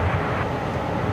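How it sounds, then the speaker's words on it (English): Alaska Airlines Boeing 737 touching down at San Francisco International Airport on runway 28, a continuous low jet engine roar heard steadily from a distance. "we did have a Alaska 737 now about to touch down on the 28s"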